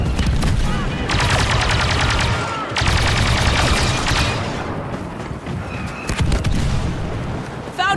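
Dense gunfire and cover fire during a battle on Jakku in the video game Star Wars Battlefront 2: a constant loud barrage of rapid shots and blasts, with occasional booms, filling the whole stretch.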